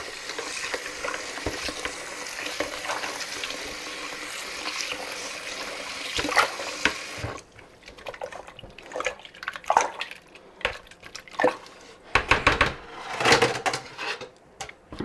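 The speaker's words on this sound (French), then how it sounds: "je mets vraiment de l'eau glacée et je malaxe mon beurre pour bien faire sortir le bas beurre" Homemade butter being kneaded and squeezed by hand in a bowl of iced water, giving wet squelching, sloshing and dripping sounds close up, with a brief quieter pause midway before irregular splashy handling resumes.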